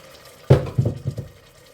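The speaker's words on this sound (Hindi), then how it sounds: "वो वाले पानी शामिल करेंगे ताकि टमाटर गल जाए अच्छी तरह" Ginger-garlic water is tipped into tomatoes cooking in a pan for a cauliflower and pea curry, with a sudden splash followed by a few brief bubbling, sputtering bursts that fade quickly.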